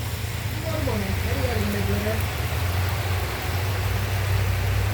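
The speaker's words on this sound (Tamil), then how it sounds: "என்னென்ன மழை வந்துட்டுது" Heavy rain pours down steadily in a broad, constant hiss, with a low rumbling undertone and faint voices murmuring beneath for the full stretch.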